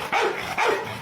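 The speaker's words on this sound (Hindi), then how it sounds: "तभी कुत्ता इसके पीछे पड़ जाता है।" A dog gives two quick, close barks about half a second apart while chasing someone.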